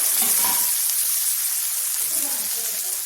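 Chopped tomatoes go into a hot pan for paneer chilli, setting off a steady, loud sizzle and hiss that continues throughout.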